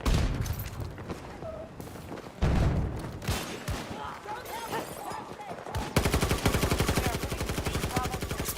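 Gunfire crackles through a Battlefield 2042 match, with scattered shots early giving way to a rapid, steady automatic burst near the end, loud and close amid game noise.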